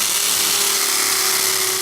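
A 6.5mm drill widening a pilot hole in a wall for wall plugs, a loud continuous high-pitched whine with a steady motor tone and no pauses.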